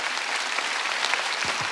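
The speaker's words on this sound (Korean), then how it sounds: "박수 치려면 치고." A church congregation at a Wednesday worship service claps together, a brief dense burst of applause that holds steady throughout, with a faint voice or two underneath.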